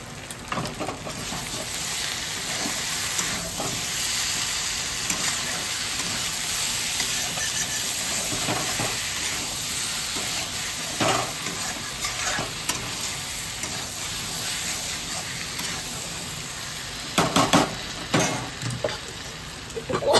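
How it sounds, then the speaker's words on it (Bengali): Spices fry in a pan with a steady, fairly loud sizzle that lasts throughout, broken by scraping stirs and a few sharper clatters near the end, with no talk. "দেখি মশলাটা একটু ভাজা হবে।"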